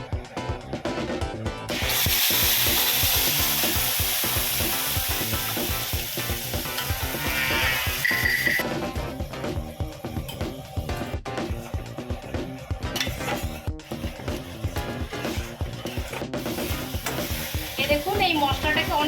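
Garlic, onion and green chillies fry in hot oil in an iron kadai, giving a steady, close sizzle with constant stirring and scraping against the metal, loud throughout with no talking.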